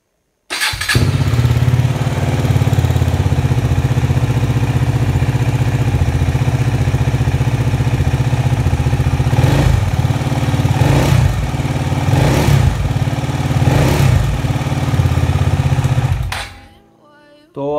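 A KTM Duke 390 motorcycle starts and idles close by, a steady loud single-cylinder chug that holds for about fifteen seconds before being cut off.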